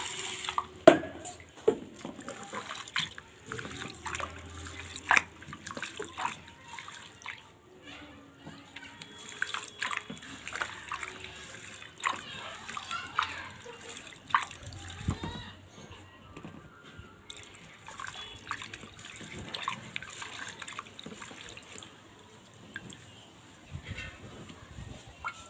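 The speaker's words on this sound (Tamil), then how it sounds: "அப்போ தண்ணி ஊற்றி வச்சிடலாம்." Water is poured over washed urad dal to soak it for ration-rice dosa batter, making a steady wet splashing and trickling with scattered clinks and drips, close by and fairly soft throughout.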